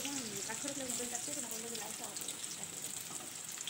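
Chopped onion frying in hot oil with cumin seeds and chopped green chilli, a steady soft sizzle throughout as a voice speaks over the first half.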